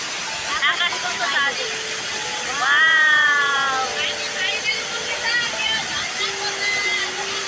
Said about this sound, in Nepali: यति स्वच्छ पानी है, निर्दोष झर्ना